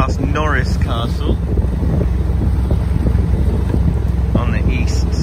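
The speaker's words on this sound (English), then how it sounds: "just sailing past Norris Castle" A sailboat sails past Norris Castle on the east side of Cowes, Isle of Wight, with steady, loud wind buffeting and water rush throughout and brief voices over it.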